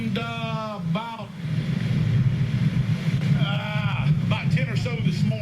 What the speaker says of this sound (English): we're getting another really strong gust here on the northern side of DeLand